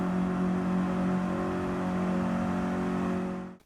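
A Renault Kangoo van with a 1.4-litre 8-valve engine drones at a steady, sustained pitch in Gran Turismo 7, holding close and loud before cutting off abruptly at the end.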